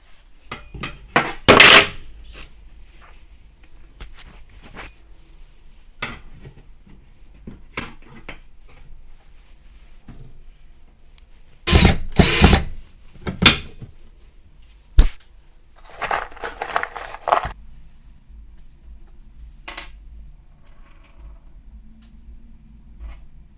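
Extra shelf brackets being fixed up inside a sneaker closet: scattered clicks and taps of hardware, then a loud cluster of knocks and clatter near the middle, with a few lighter taps after.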